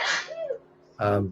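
A single sharp sneeze, close and loud, bursts out after a brief indrawn breath during an online meeting.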